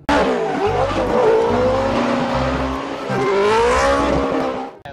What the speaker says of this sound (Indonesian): Ada mobil Lamborghini.